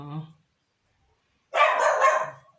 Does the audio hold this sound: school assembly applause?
no